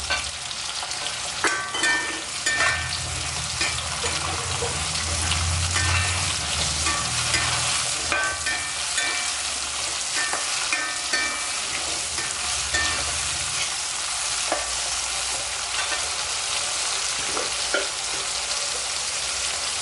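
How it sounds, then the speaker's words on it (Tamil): Onion and tomato sautéing in a pan for Chettinad okra tamarind curry, with a continuous close sizzle and frequent spatula scrapes and taps throughout. "கொஞ்சம் வெங்காயம் தக்காளி வதக்கும் போதே கொஞ்சம் உப்பு போட்டுக்கலாம்"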